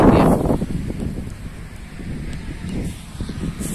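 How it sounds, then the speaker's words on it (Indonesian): Steady wind buffeting a microphone at a river estuary while fishing for mullet in the late afternoon, a broad rumbling roar with gusts, loudest at the start and then holding fairly even. "Ini berangin ya man."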